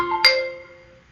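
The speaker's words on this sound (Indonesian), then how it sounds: "Maka HP kita akan berdering seperti ini selama beberapa waktu." A mobile phone ringtone playing, a single bright, bell-like chime that strikes sharply and rings out, fading over about a second, close and clean with nothing else audible.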